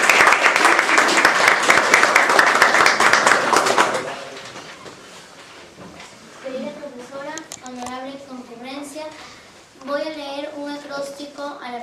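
Loud applause from an audience at a cultural evening event welcoming a girl, filling the first four seconds, then fading into murmuring voices and bird-like cooing sounds.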